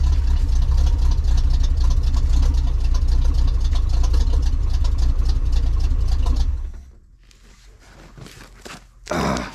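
A 1982 Chevy K10 pickup engine idles loudly and steadily up close for over six seconds, then drops to a quieter low rumble with a brief rise near the end.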